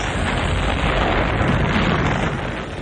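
A loud, dense explosion roar from the film Rambo: First Blood Part II fills the whole clip, a sustained broadband rumble and crackle that eases off slightly at the end.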